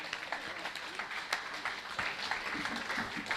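An audience at a Hindi poetry recital claps continuously, producing a dense, even wash of applause that sounds somewhat distant and soft.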